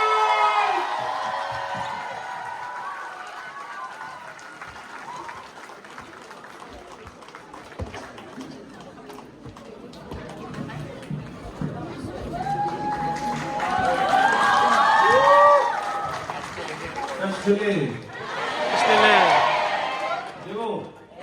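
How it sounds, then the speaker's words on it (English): An audience applauds and cheers as Chairman Hitesh Choudhary and MC Mary Kom come onto the stage at a donation event for Students for a Free Tibet. Talk comes first, then the crowd noise swells, with shouts rising over it and two loud peaks near the end. "big round of applause once again for Chairman Hitesh Choudhary and MC Maricom on stage"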